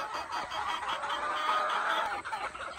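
Golden Boy sweater pullets at a gamefarm clucking continuously at close range, a dense overlapping chorus of fowl voices with no talk.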